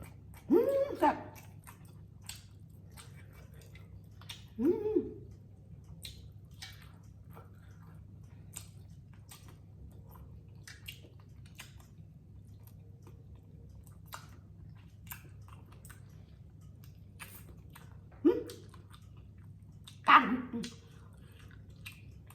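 Steamed frog with mixed vegetables and spicy dipping sauce being chewed, with a few separate close, wet bites and chews spaced far apart over a steady low hum, no talking.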